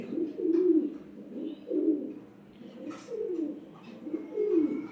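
Domestic pigeons coo in a loft, low soft throaty calls repeating in a steady rolling rhythm, fairly close, with faint chirps and background rustle.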